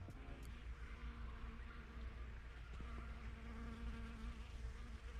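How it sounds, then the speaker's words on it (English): Bees buzzing steadily as they pollinate camellias and other flowers in a quiet garden at Eden Gardens State Park, a soft continuous drone with faint background hum and no talking. "No other noises, just bees going about the important work of pollinating."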